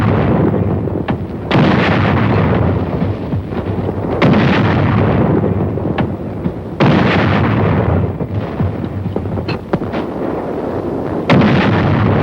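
Dense artillery and gunfire barrage from a war film, with repeated heavy booms and continuous rumbling bursts sustained loudly throughout, no talk.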